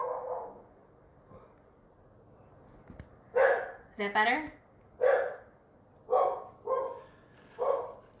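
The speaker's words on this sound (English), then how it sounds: "That's my dogs because we have our long guy here." Dogs bark several times at a short distance, each bark a sharp separate burst, with a person speaking briefly in between.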